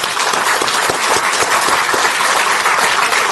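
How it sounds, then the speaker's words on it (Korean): A room of attendees at a Korean party meeting gives a loud, dense round of applause that holds evenly from start to finish, close and without talk. "큰 박수 한번 보여주세요"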